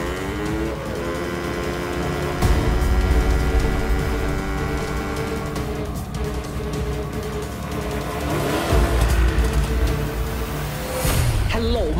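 Car engine roars and pulls away in a 1990s Thai vocational-student gang film, a loud continuous drone with surging revs, over a music score and brief speech.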